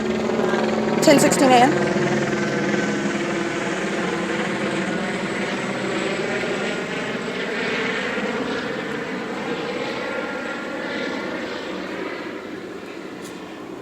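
An Ontario police helicopter passes overhead, its rotor and engine making a steady, broad droning roar for the whole stretch, with a voice speaking faintly beneath it.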